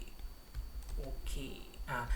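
Computer keyboard keystrokes click in quick, uneven bursts, fairly quiet and close, as code is copied and pasted, with faint background noise beneath.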